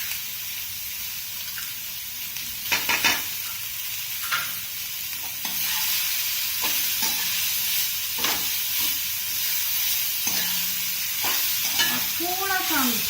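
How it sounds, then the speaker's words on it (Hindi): Vegetables with salt and red chili powder sizzle in a pan while a spoon stirs them, producing intermittent scraping strokes over a steady frying hiss, with no speech. "थोड़ा सा हम इसको चलाएंगे ताकि वेजिस थोड़ी सी सॉफ्ट हो जाए।"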